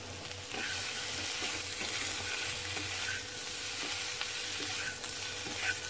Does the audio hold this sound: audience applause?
no